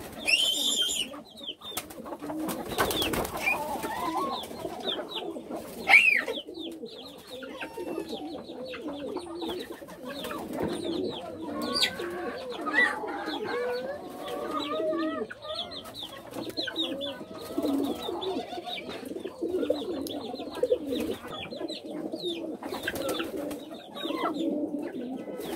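Pigeons coo steadily in soft, overlapping calls, with chicken clucks and other fowl sounds mixed into a busy farmyard background.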